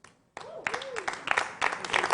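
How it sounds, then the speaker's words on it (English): At a televised talent show final selection, the audience bursts into applause for a performer after a brief quiet start. The clapping grows in uneven surges, mixed with tonal swooping sounds that rise and fall over it. "a round of applause for K."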